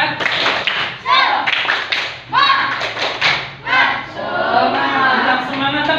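A group in a classroom coaching session performs a rhythmic clapping chant, bursts of sharp, loud hand claps in patterned beats alternating with chanted voices, close and energetic.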